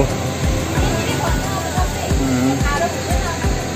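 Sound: swollen Teesta river rushing below the road

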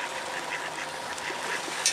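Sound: ducks quacking

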